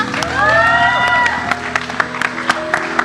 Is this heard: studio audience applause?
yes